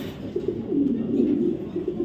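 Racing pigeons fitted with leg race chips coo nearby, a low rolling burble that swells and holds for about two seconds without other sounds.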